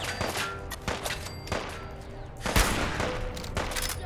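Gunshots in the video game Fallout 4: several sharp, moderately loud cracks at uneven intervals over a steady, low background hum, with a heavier report near the end and no speech.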